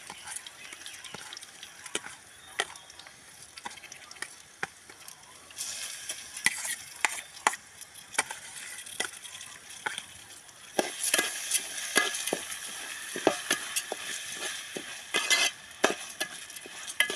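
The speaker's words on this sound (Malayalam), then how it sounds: "അതിലേക്ക് പച്ചരി ഇട്ട് കൊടുത്ത് നന്നായി ഇളക്കിയിട്ടുണ്ട്" Raw rice with wilted onions is stirred in ghee in a pan for ghee rice, with irregular close scraping and clacking strokes over a soft, steady sizzle that grows busier later on.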